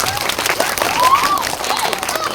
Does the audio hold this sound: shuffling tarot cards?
no